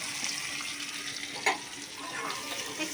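Chopped onion poured into hot oil for a fish curry sets off a soft, continuous sizzling hiss with a brief splash-like burst near the middle.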